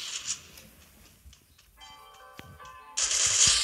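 Free Fire video game gunfire comes as short, sharp bursts amid quiet in-game clatter, with a louder rush of noise near the end.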